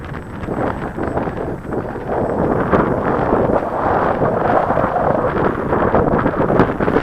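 Strong wind at the Henryetta airfield buffets the microphone in a loud, continuous roaring rush with gusty swells and no clear voices.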